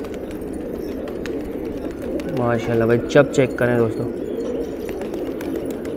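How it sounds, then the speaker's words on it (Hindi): Fighter pigeons on a rooftop coo in a short burst of throaty, pulsing calls, close and clear over a steady outdoor hum, while someone talks throughout. "दोस्तों कबूतर चेक करें, उस्ताद ने बेहतरीन किस्म के कबूतर छोड़े हैं भाई"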